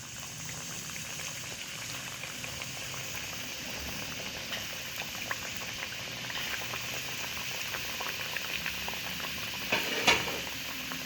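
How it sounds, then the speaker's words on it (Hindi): Mawa gujiya, shaped like ducks, frying in hot ghee in a pan over very low heat: a steady, even sizzle with soft bubbling crackle continues throughout, with a brief louder spatter near the end. "घी हमारा गरम हो गया है, हम इनको फ्राई करेंगे और बिल्कुल धीमी आंच पर ही हमें ऐसे सेकना है"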